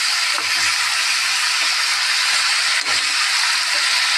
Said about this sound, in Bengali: আমি কালো জিরে ফোড়ন দিলাম।